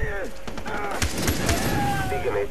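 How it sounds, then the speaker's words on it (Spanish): Rapid bursts of Far Cry 3 gunfire crackle over a dense, busy soundscape, with synthetic whooshes and tones running throughout. "¡Me disparan!"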